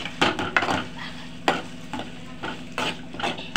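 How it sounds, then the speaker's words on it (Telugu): Boiled boti (tripe) is stirred into masala curry in a pan, with repeated scraping, wet stirring strokes over a soft background sizzle. "ఉడకబెట్టిన బోటి ఇందులో వేసుకొని కలదిప్పాలి."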